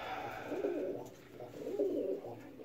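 Pigeons incubating eggs coo softly at close range, giving two low, throaty rolling calls in quick succession.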